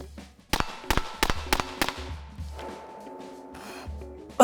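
Five sharp suppressed 5.56x45mm rifle shots through a BOE MOD1S suppressor with the gas system open, fired in a quick irregular string, each a loud crack with short ringing tail, followed by quieter mechanical rattles.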